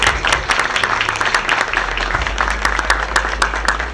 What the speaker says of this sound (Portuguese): por favor, uma salva de palmas para a doutora Úrsula